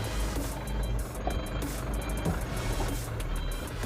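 A heavily loaded Canter truck backs up slowly with its engine idling at about 1000 RPM, while a steady, evenly spaced reversing beep repeats over the low engine drone.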